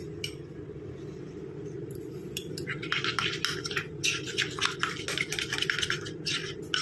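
Gram flour being mixed with potato juice in a bowl, rapid scraping and clinking of a spoon against the bowl that grows busier midway, over a low steady background hum.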